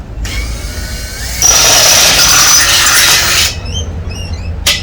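A power drill with an 8.5mm bit whirs loudly for about two seconds, spinning up and boring steadily into a Ford Galaxie car frame, with quieter handling noises before and after.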